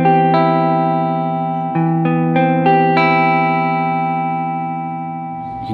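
An electric guitar with a clean tone strums a first inversion major 7 chord, followed by a few picked notes added over the ringing chord, sustained and fading slowly, loud and close.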